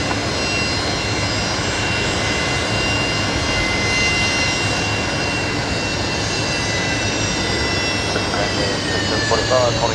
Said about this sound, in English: Those Rolls-Royce Tays making some beautiful sounds there